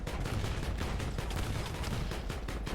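Rapid, dense automatic gunfire from tanks and armored vehicles in the War Thunder video game, a Leopard 1 among them, rattling continuously and loudly throughout with no talking.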